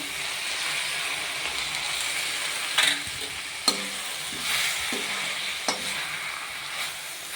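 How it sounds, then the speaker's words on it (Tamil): Steady sizzling of eggs frying with spinach in a pan, with a few sharp clinks and scrapes of a utensil against the pan. "இப்போ 2 முட்டை ஊற்றுறேன்."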